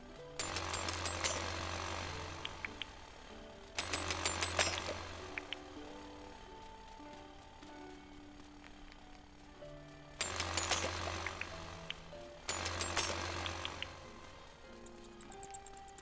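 Hammer strikes on iron ore in a cave in the Dinkum video game, heard as four loud bursts of clanging game effects in two pairs, with quieter ambient game sounds between them.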